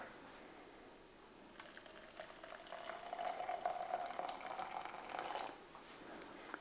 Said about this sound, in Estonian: peale valan keeva vee